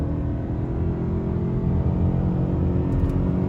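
A Toyota Camry, recently repaired after an accident, accelerates hard from a standstill with a continuous deep engine rumble and road roar heard from inside the car.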